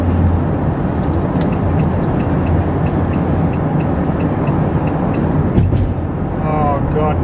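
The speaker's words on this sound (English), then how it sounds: "Traffic from right up here." Road traffic on the Gold Coast rumbles as a continuous dense roar from car engines and tyres, loud and close, with a voice speaking near the end.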